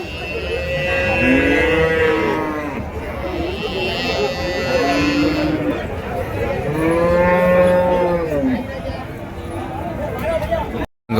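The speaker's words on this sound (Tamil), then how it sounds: "சீமை மாடுங்க கண்ணு மாடும்" Cattle at a rural livestock market in Uthangarai, Krishnagiri district, including exotic HF crossbred heifers and calves, moo repeatedly in long, loud bellowing calls, several overlapping animals close by, with market chatter in the background.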